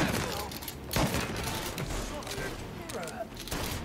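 Scattered gunfire in the crime video game Mafia, with several shots fired over a noisy, busy background and voices shouting over them.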